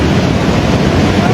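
Muddy floodwater carrying debris rushes in a steady, loud, broadband roar during a flooding emergency near Pine Drive in Ouray, Colorado, with no breaks across the short stretch.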